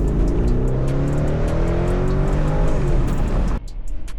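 A BMW 3 Series with a four-cylinder engine accelerates hard, its rising engine note climbing loudly and steadily for over three seconds before cutting off abruptly into quieter background noise.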